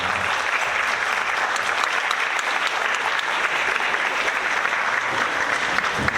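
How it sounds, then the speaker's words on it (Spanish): Sustained audience applause at a regional development and public policy conference, dense and even clapping from a large room that holds steady throughout. "para quien les pido un aplauso"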